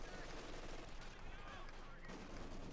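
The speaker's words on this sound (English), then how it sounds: "The submachine guns laying down a hailstorm of fire." Dense submachine gun and machine gun fire from a Company of Heroes 2 battle between Wehrmacht and Soviet forces, bursts overlapping into a continuous crackling barrage with distant artillery-like thumps, fairly faint in the mix.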